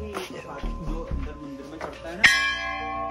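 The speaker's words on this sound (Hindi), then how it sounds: "तो भैया ये देखो, हमने घंटी भी ले ली है" A metal temple bell at Ghora Khal Temple rings out once, loud and close, with a long shimmering decay, after a stretch of people talking nearby.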